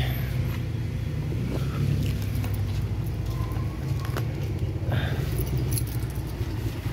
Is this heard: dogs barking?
no